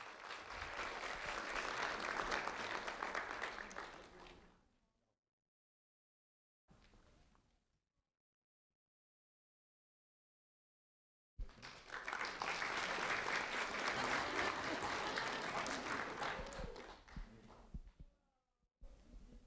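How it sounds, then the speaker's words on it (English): An audience at a school award ceremony claps loudly for a third-grade trophy recipient, with two long bursts of applause split by near silence and a short clatter. "A round of applause for Robert Sherman."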